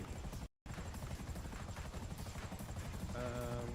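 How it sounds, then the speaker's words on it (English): A video game helicopter plummeting to a crash: its rotor drone hums steadily and faintly, as if at a distance, with a brief dropout early on. "I hear a helicopter plummeting somewhere near me."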